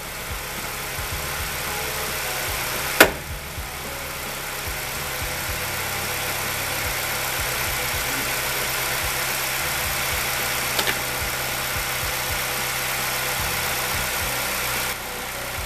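A Ford Escape 2.3 Duratec idles steadily after a used cylinder head install, a constant close engine hum with one sharp click early on.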